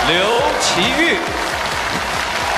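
Audience applause greets a young mixed-heritage girl contestant on a Chinese TV children's talent special, steady clapping running beneath a voice announcing her name and bright stage music.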